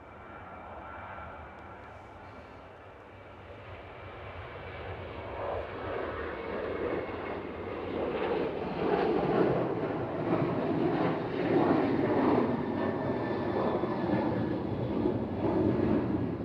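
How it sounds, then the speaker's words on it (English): A Ryanair Boeing 737-800 jet departing Manchester Airport for Faro gives a steady, broad roar that builds over several seconds and holds loud, with wind buffeting the microphone and no talk. "Ryanair off to Faro, 737-800."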